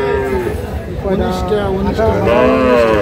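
Bulls and cows low loudly and nearby at the Ambari cattle market, drawn-out moos overlapping one another against a noisy, crowded background with voices murmuring underneath.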